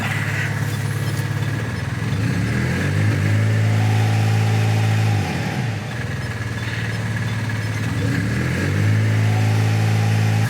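A microcar engine at a vehicle inspection station is revved repeatedly for an emissions test, climbing from a low idle drone into loud sustained revs, dropping back, then revving up again.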